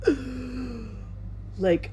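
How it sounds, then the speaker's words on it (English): A sharp, sudden intake of breath, followed by a long drawn exhale and a second short gasp near the end, close and alone, in a quiet room. "I literally gasped for air, like"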